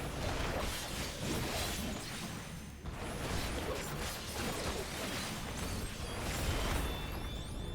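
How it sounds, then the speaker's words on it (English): A loud, dense burst of explosive noise from the video game Final Fantasy XIV, booming and crackling continuously for several seconds with a brief dip partway through. "Explosion!"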